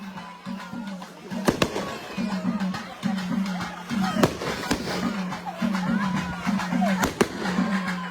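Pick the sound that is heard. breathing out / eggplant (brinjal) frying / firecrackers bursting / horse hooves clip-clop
firecrackers bursting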